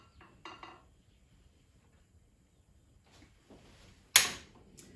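A metal pot of garlic being covered with its lid and set on the stove: a few soft clinks, a quiet pause, then a sharp close metallic clank as it lands, with light rattling after.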